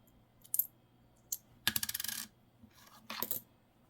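Mostly zinc pennies are handled and dropped, giving a few sharp metallic clinks followed by a quick rattling run of coins and later another jingling cluster, close and alone.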